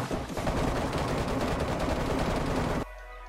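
Rapid automatic gunfire in the survival video game DayZ during a PvP fight, a dense loud burst of shots for nearly three seconds that cuts off abruptly into quiet.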